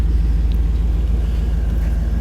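A 1989 GMC Vandura 2500 van engine idles with a steady low-pitched rumble, close and continuous, with no voices.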